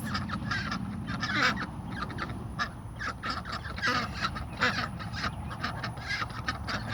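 Several Ancona ducks call outdoors in a garden, with raspy quacks and honk-like cries repeating in irregular bursts over a steady background hum, close and fairly loud.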